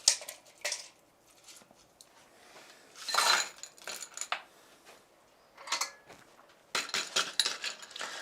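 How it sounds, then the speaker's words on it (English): A mint julep with Havana Club rum is stirred in a glass with ice, bursts of clinking and jangling spoon-against-ice sounds coming in irregular close clusters separated by quiet gaps. "Do you shake or stir a julep? Stir, because there's no juice in it."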